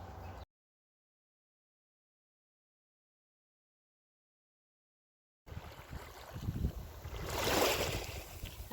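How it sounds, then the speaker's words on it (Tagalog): Gentle sea waves wash onto a quiet beach at Halfmoon Beach with soft wind. The surf rises to a swelling rush after a long silent gap, heard close and alone. "Ang sarap pakinggan ang hampas ng alon sa dalampasigan dito sa dagat"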